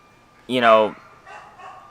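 A dog lets out a single sharp bark, close and fairly loud, followed by quieter background sounds.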